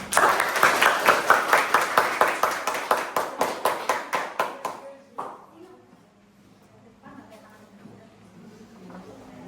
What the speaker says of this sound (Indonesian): sebelumnya tepuk tangan dulu untuk kita semua